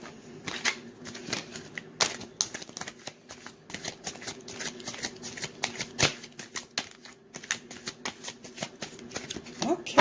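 A tarot card deck being shuffled by hand, a dense run of quick papery riffles and flicks that continues steadily and close, with soft voice sounds under it.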